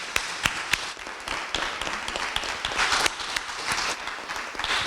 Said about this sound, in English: I want you to give a big round of applause to Bethany